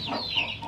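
Young hens on a farm being raised as future breeders give a short, soft clucking call, fairly faint and heard alone.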